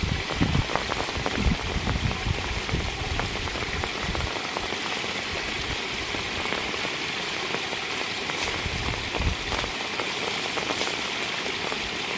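Steady heavy rain during Typhoon Enteng drums on surfaces without a break, a dense continuous patter close by with occasional louder splashes and no voices.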